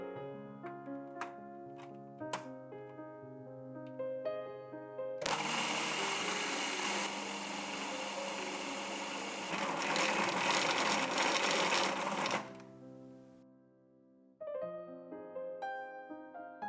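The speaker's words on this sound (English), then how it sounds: "food processor and blend it into a fine powder" A food processor grinds chocolate into fine powder in a loud, steady whirring burst lasting around seven seconds, with soft background music before and after.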